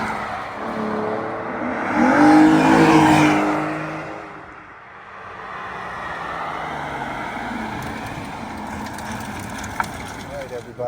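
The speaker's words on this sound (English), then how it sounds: "The sound from that V12 is just awesome." A 2006 Aston Martin DB9 with a V12 engine sweeps past in a loud flyby, the engine note swelling as it approaches and fading away, followed by steady road and wind noise.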